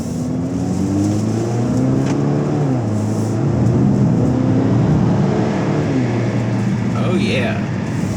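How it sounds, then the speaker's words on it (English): 2019 Volvo V60 accelerating up an entrance ramp, a steady engine drone rising and falling in pitch through the gears under continuous road and cabin noise, heard from inside the car. "Wait for the traffic here, and then we'll accelerate again."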